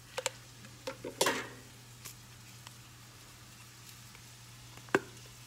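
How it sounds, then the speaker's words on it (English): Sausage browns in a pan on a home stove, with a faint low sizzle beneath a few sharp utensil scrapes and taps against the pan, one louder clack near the end. "Gonna keep browning the sausage."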